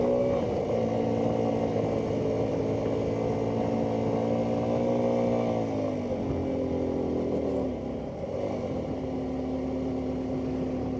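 A Suzuki V-Strom 250SX, a 250 cc motorcycle, pulls in fourth gear around 60 on a climbing ride with a passenger, a steady close engine drone whose pitch holds, dips, then settles lower.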